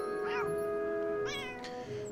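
A cat meows twice in the video game Beyond Eyes, two short clear calls about a second apart over a steady ambient music drone, with no talk.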